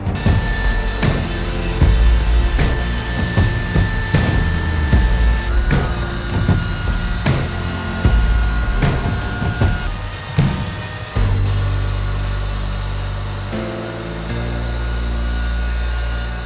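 Loud, continuous buzz of a chainsaw carving wood, with uneven surges and cuts, then a steadier droning hum near the end.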